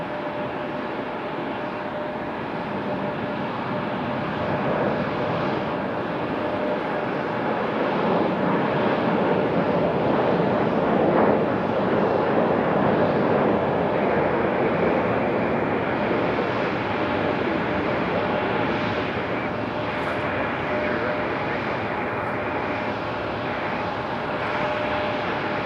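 At Raleigh-Durham International Airport, a departing jet airliner roars steadily, swelling to a broad rumbling peak midway and easing slightly as it climbs away, heard from a spotting spot at moderate distance with no talking.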